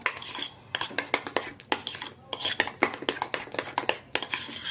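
A spoon mixes purple food colouring in a bowl, clicking and scraping against the sides in a quick, irregular series of close, bright strokes.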